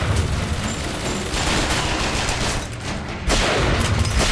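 Gunfire in the BioShock Infinite video game, dense rapid shots and bursts that run on without pause, loud and close, with a short dip before the firing picks up again. No one talks.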